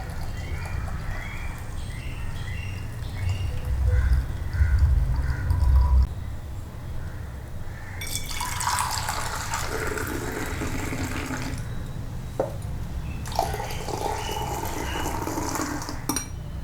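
Spiced masala tea strained and poured into a vessel in a home kitchen, a steady liquid trickle and splash that comes and goes in bursts with light clinks from utensils.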